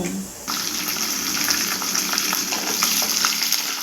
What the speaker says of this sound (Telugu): అందులోనే ఆవాలు జీలకర్ర మినపప్పు శనగపప్పు చెనా పలుకులు వేసుకొని బాగా ఫ్రై చేసుకుంటున్నాను